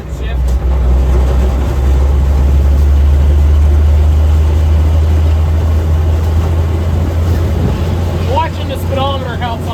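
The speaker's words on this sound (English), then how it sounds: "listening to the sound of the gears." An 81-year-old army truck engine drones loud and steady throughout, with gear noise and a shift under the rumble, driven in 25-degree cold; faint speech mixes in near the end.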